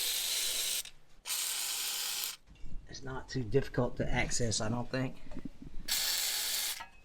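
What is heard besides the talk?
ratchet removing bolts from old tractor water pump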